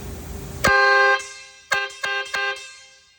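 Truck air horn, one of eight mounted on a Kenworth W900L and wired to a battery in a shop, blasts loud and close: one long honk, then three short toots, cutting off sharply.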